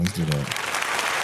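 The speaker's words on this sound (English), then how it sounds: "let's give a round of applause for rock real quick." A round of applause for rock music breaks out as a man finishes a short spoken line, the clapping continuing as a steady, dense wash for about a second.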